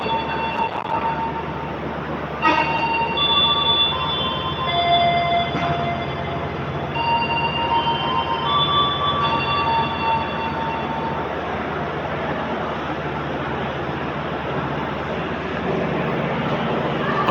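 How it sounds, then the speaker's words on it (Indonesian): A passenger train runs on the Bandung–Padalarang rail line in Indonesia, giving a loud, continuous rumble with intermittent metallic squeals and tones. "Kereta paling utama di lintas Bandung Padalarang."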